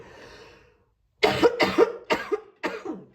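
A person coughs in four sharp, harsh bursts close to the microphone, the first two in quick succession and the last two spaced apart, following a brief faint breath before a short silence.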